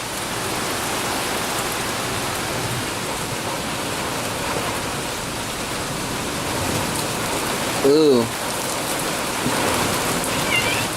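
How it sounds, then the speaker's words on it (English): A heavy Georgia rainstorm pours down as a dense, continuous hiss of rain on surfaces. It is loud and unbroken, and a person briefly exclaims near the end. "why don't we take a look at a nice big Georgia rainstorm"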